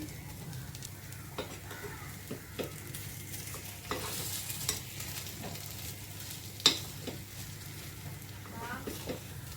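Rava appe fry in an appe pan and are flipped one by one: a soft continuous sizzle with scattered light taps and clicks of the turning tool, close and fairly quiet.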